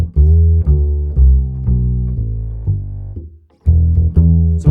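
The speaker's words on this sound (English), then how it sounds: "we've got this idea of a body tap" A virtual bass in Logic Pro plays a bass-body tap articulation: a run of short, deep, sustained bass notes with percussive onsets, played alone in a steady rhythm, with a brief gap before the last few notes.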